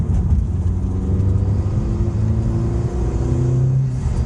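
A Honda Civic Type R FK2 drives along under a steady, close engine drone with a low rumble, holding a fairly even pitch throughout.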